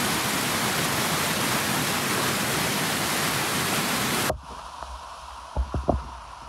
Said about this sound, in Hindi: तो ये रहा नेचुरल वाटरफॉल।